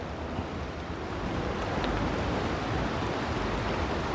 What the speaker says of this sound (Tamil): ஆற்றுல தண்ணி பாருங்கள் என்ன ஃபோர்ஸாக போய் நிற்குது.